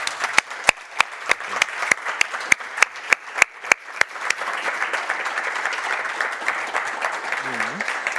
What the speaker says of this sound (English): Big applause to our panelists.